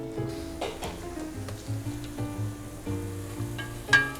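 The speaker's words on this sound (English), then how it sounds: "I just threw in the shiitake mushrooms with the shallots and garlic, and then we're gonna stir that." Shiitake mushrooms, shallots and garlic sizzle in butter in a pan while being stirred, a close, steady crackle broken by repeated spoon scrapes and a sharper knock near the end.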